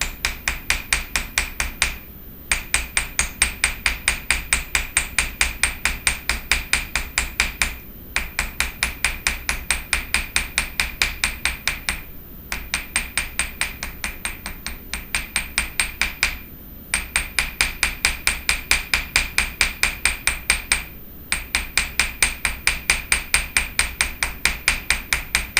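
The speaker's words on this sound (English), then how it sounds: "I flip it over and I start hammering" A hammer strikes copper leaf during jewelry fold forming in quick, even runs of sharp taps, each run lasting a few seconds before a short pause, close and steady with no voices.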